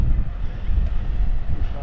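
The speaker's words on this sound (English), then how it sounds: "it's a bit windy" Wind buffeting a microphone outdoors, a continuous low rumbling roar that rises and falls, loud and close throughout.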